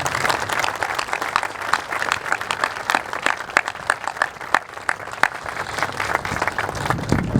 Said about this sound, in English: a big round of applause for a job well done